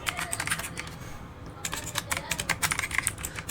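Code being typed on a computer keyboard, with quick, close clicking bursts of keystrokes, a brief pause in the middle, then rapid typing resuming.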